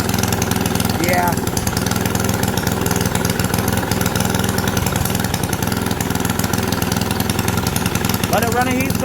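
A Predator 212 Hemi small engine with a stage 2 build runs steadily at a loud, even idle for several seconds, with brief voices rising over it near the start and end.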